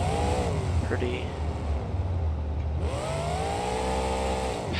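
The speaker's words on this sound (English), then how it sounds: "powerful engine, I'd say." A monster truck named Earthshaker in the BeamNG racing game revs hard, its engine note rising and falling in two long sweeps, loud and continuous, with a steady drone beneath.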